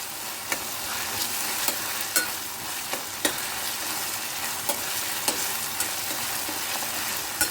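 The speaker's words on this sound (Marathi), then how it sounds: "आलं लसूण आणि कोथिंबीरची पेस्ट आहे, ही 2 चमचे टाकायची आहे। पेस्ट फ्राय करून घ्यायची।" Ginger, garlic and coriander paste frying in oil in a pan, a steady close sizzle punctuated by regular light clicks of a stirring spoon, with no talk.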